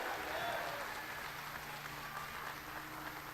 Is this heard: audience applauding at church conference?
yes